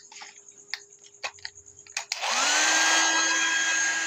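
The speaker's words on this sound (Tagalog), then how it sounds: "Pag human bloweran na nato og itong hair dryer." A few sharp clicks and ticks come first, then a hair dryer switches on, spinning up to a loud, steady blowing whoosh aimed at a wet LED TV.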